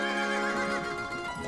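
A horse neighs in an audio drama, a single drawn-out whinny with a wavering pitch, close and clear over a faint background.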